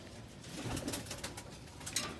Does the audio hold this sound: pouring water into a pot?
no